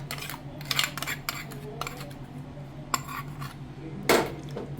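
A spoon clinks and scrapes against a metal vessel in irregular strokes, close by, with one louder knock near the end, while a mixture with water and salt is stirred for a fish curry.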